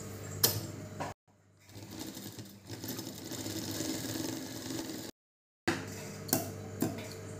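A close sewing machine runs in steady, clattering bursts while a garment is stitched, broken by two short silent gaps, with no talk over it.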